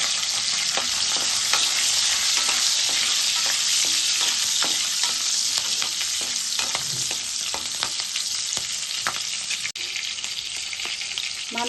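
Bay leaf, cumin seeds and cut green chillies fry in hot oil for an egg masala curry, a steady loud sizzle with frequent crackles and pops and the scrape of stirring throughout, with no talking.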